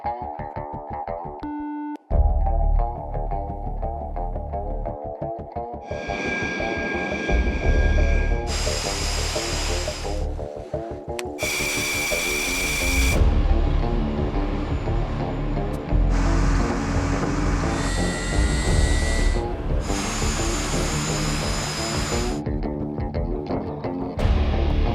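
French Air Force military jet engine spooling up for takeoff, a loud sustained roar with shifting high-pitched whine and hiss that climbs in stages, continuous and close, with occasional voices over it.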